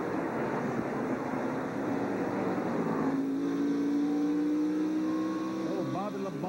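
NASCAR stock car at the 1997 Exide Batteries 400 pulling away from the pit after a tire change, engine roar rising in pitch as it accelerates and fades, under steady race commentary.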